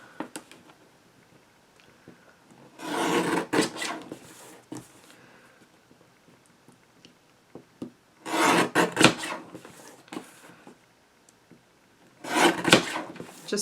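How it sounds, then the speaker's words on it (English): Card stock being trimmed down for a border on a handmade recycled baby card, three separate rasping cutting strokes, close and fairly quiet, with near silence between them. "I think I'm going to trim this down just a little bit on each side."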